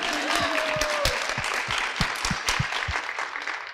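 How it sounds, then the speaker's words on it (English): A conference audience at a journalism symposium applauds, a dense wash of clapping with some louder individual claps standing out, sustained and fairly close, with a faint voice at the start. "this is the moment where you clap"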